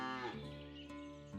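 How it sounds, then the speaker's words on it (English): A single long, deep cow moo from the farming town-builder game Ostriv sounds loud and clear, holding a droning tone before tapering off, with no talk. "cows making noise"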